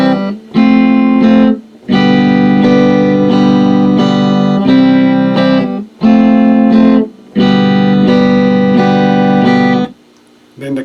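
Guitar strums the La Bamba chords with the change to G landing on the beat rather than early; loud, sustained chord strums with short breaks between phrases, played alone.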